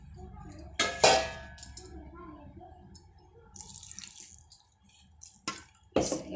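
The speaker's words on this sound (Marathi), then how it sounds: "थोडंसं पाणी घालायचं" A little water is poured into a mixer jar holding spinach while making palak papad, heard as short splashing bursts and light clinks separated by quiet gaps.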